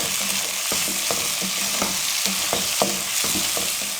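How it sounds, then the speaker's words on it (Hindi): Ginger garlic paste fries in a pan over a constant loud sizzle, with a spatula scraping and stirring in a quick, regular rhythm of short strokes. "अदरक और लहसुन के पेस्ट को मैंने अच्छे से भून लिया है"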